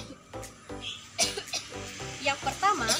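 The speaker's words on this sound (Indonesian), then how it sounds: "yang pertama, batuk" Several harsh coughing bursts repeat, with sharper, louder coughs toward the end, set against a steady harmonic background.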